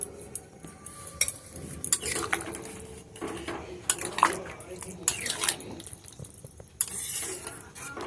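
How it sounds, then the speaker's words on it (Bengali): Chickpeas are stirred and mixed with a utensil in a pan of chana masala, producing steady scraping and clinking with a faint sizzle underneath throughout. "ছোলাটা দিয়েও আমি ভালো করে নেড়ে চেড়ে ভালো করে এটাকে মিশিয়ে নেব।"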